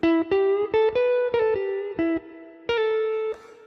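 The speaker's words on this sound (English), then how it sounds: "Like a grace note pull off right there." A clean electric guitar plays a short melodic phrase of picked notes, with a quick grace-note pull-off flicking into a held note, sustaining with light effects.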